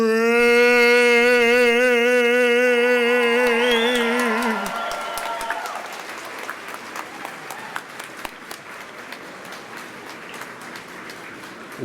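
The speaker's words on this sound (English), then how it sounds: "Let's give him another round of applause for that." A sung national anthem holds its final note at a spring college commencement ceremony, then the crowd breaks into broad, steady applause that fills the hall and slowly thins toward the end.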